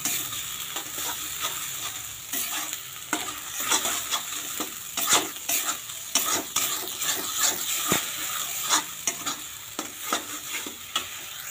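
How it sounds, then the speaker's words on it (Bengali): Salted coriander leaves fry in oil with a steady sizzle, broken by repeated scraping and stirring strokes of a spatula against the pan, close and fairly loud, with no voices. "এর মধ্যে লবণ দেওয়া হয়েছে, এখন শুধু একটু ভেজে নেব।"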